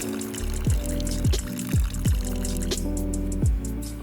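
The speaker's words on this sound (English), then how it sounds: "you fill the rest up with water" Water running into an MJJ foam cannon bottle, a gurgling fill with repeated rising glugs as the bottle fills, close and fairly quiet, no talking.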